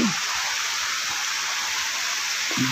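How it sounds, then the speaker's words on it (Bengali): Heavy rain pours down steadily in Satkania, Chittagong, a dense, continuous hiss close around a market stall, with brief low thumps at the start and end. "প্রচুর বৃষ্টি হচ্ছে দেখেন একদম কালো বৃষ্টি পড়তেছে পুরো"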